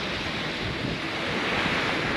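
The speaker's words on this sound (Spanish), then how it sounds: "este mar hermosísimo que tengo al frente mío" Ocean waves roll onto the beach at Ocean Park, Puerto Rico, in a steady, loud wash of surf with wind across the microphone, with no voices.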